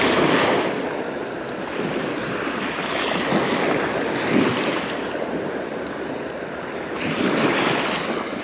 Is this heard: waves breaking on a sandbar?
yes